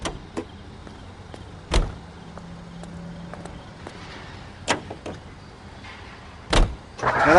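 Car sounds from the L.A. Noire video game: sharp door thuds and clunks at intervals over a faint low engine hum, with a short mechanical whir in between and no talk.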